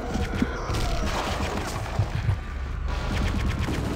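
Rapid gunfire fills a firefight in the video game Return to Castle Wolfenstein, with dense overlapping shots and bursts crackling continuously at moderate loudness, a few sharper reports standing out.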